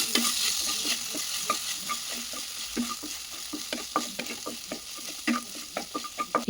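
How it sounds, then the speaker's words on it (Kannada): Sabudana (tapioca pearls) frying in ghee while being stirred up close, a steady sizzle broken by irregular scraping clicks of the spoon against the pan, with no voices. "ಅದೇ ತುಪ್ಪಕ್ಕೆ ನಾನು ಸಾಬುದಾನನ ಹಾಕಿ ಸ್ವಲ್ಪ ಟ್ರಾನ್ಸ್ಪರೆಂಟ್ ಕಲರ್ ಆಗಬೇಕು"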